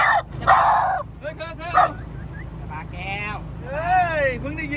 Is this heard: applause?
no